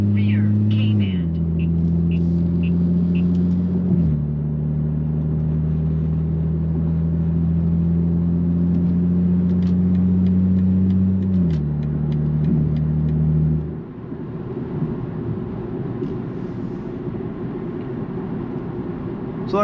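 A car in sport mode pulls away under hard acceleration, its engine droning loudly close up and stepping through gear changes before easing off, with a voice speaking briefly at the start.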